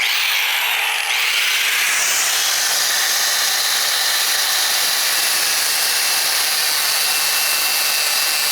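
A power tool cuts steadily through the intake adapter boot on a KLX110 pit bike, giving a loud, continuous high-pitched whine that holds nearly constant for several seconds.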